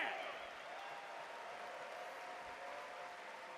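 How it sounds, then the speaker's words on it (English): A steady wash of applause from a crowd, even and continuous throughout, moderately loud with no pauses. "give a round of applause to everyone that submitted for the short film contest"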